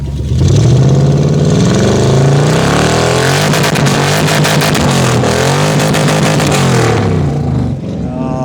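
Custom 1980 AMC Spirit engine revving loudly, recorded close to the exhaust while cold; a steady roaring rumble rises and falls through repeated throttle blips, with rapid pulsing bursts in the middle, then settles.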